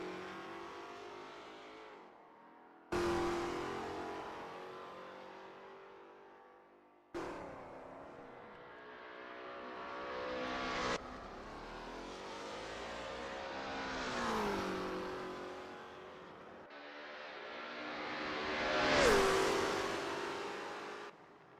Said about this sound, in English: Zahn is getting to grips with the ASRL T70 MkII Spyder in this practice session